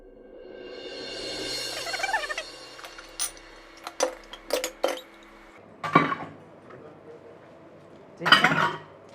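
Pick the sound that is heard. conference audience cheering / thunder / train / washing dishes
washing dishes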